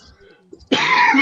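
A person coughs once, a loud rough burst up close after a brief quiet pause with faint background sound.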